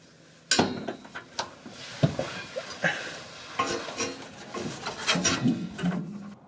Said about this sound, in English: But the first thing we got to do is get these rubber vibration isolators out of the way. So just kind of got to force them off of there.